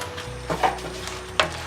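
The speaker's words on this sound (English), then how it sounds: "I'm just going to mix them in" A spoon stirs crab curry masala in a pan, giving a couple of brief scraping swishes over a soft, steady sizzle, close by and without voices.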